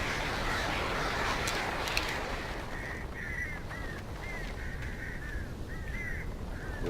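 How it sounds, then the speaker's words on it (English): Several crows caw in the Alan Wake video game, a rhythmic series of short harsh calls rising over a dense, steady ambient rumble of wind and background noise. "Birds."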